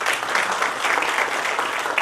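Audience at a national technology innovation awards ceremony clapping steadily, a dense, even wash of many hands with no gaps, loud and close.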